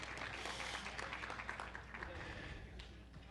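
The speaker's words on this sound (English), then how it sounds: "let's give a big round of applause" Applause from a panel-discussion audience in a hall, a dense steady patter of many hands clapping with voices mixed in, fairly faint and slowly tapering toward the end.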